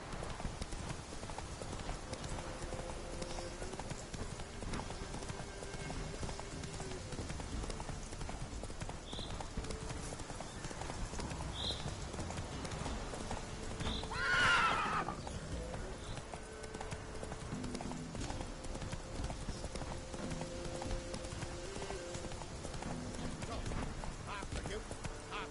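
Roach, a horse in The Witcher video game, gallops with a steady rhythmic clip-clop of hooves, a brief whinny-like burst midway, and a voice talking faintly over the game sounds.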